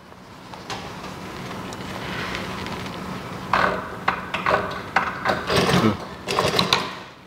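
Sewing machine stitching back over a trouser seam while taking in the waist and hips, a soft low hum followed by several short bursts of rapid needle clatter, close up.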